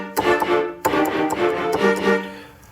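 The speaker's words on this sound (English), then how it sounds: "Those are 10 violins playing staccato" A section of ten violins from a Vienna strings sample library plays short staccato notes in a quick, rhythmic run, crisp detached strokes repeating steadily, close and clear with no talking.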